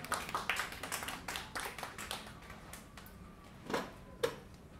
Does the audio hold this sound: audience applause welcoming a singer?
yes